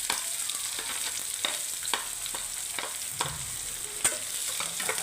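Onion frying in a pan while being stirred, steady broadband sizzle with repeated sharp scrapes and clicks of the spoon against the pan, close and fairly loud, no talking.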